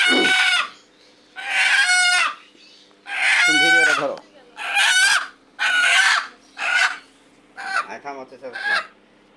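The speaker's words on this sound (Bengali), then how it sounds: "এই যে মোরগ দেখি মোরগ দেখি" A rooster crows and clucks in several loud, separate bursts, close by, with short pauses between calls and a faint steady hum beneath.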